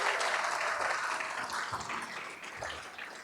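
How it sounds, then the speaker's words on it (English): Audience applause for the sponsors of a State of the City event, a dense, steady patter of many hands clapping throughout, fairly distant and even, with no voices over it. "Can we give them all a big round of applause?"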